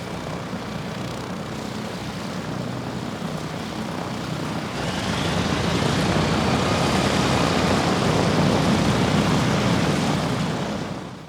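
A historic propeller airplane flies at an air show, its engine drone loud and continuous, swelling stronger midway as it passes close before easing slightly at the end.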